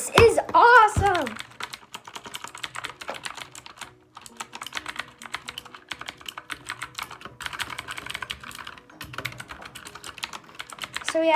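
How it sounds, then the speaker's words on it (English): Rapid, irregular clatter of keys on a Red Dragon gaming keyboard, close and crisp, with a brief burst of speech at the start. "So yeah guys, this is a Red Dragon gaming keyboard."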